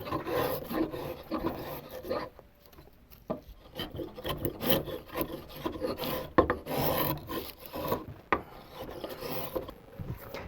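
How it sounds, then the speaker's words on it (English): A spokeshave pulls shavings off a wooden guitar neck in repeated close scraping strokes, each a rough rasping rub with small clicks, in an uneven rhythm across the whole stretch. "I'm going to use the spoke shave, and I'm going to remove material"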